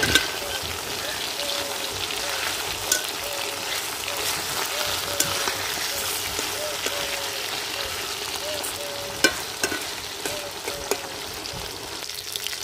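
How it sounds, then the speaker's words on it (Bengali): Katla fish fries in oil with a steady crackling sizzle throughout, small pops now and then, and faint tonal chirps in the background. "লাল লাল করে মাছ ভেজে নিয়েছি,"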